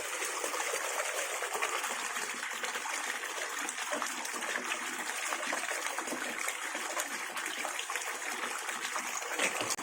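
A SunSun JTP 5800 pump drives a strong, continuous rush of water, a dense steady splashing hiss that stays loud and even throughout with no talk.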